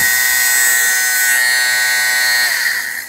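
A small battery-powered fabric lint shaver runs steadily up close with a bright, high-pitched whirring hum from its blades and fan, loud and continuous before dipping slightly as it winds down at the end.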